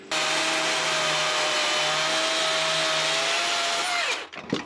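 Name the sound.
60 volt battery chainsaw cutting timber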